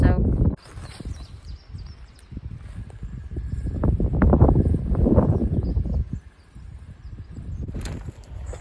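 Gusty wind buffets the microphone outdoors by a creek in rumbling low bursts, rising and falling over several seconds, with a brief lull near the start and end.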